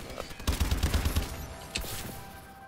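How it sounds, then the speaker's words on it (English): Shotgun fire in the video game Call of Duty: Advanced Warfare: a rapid cluster of loud blasts, then one more sharp shot a moment later. "Let's see how good the shotgun really is."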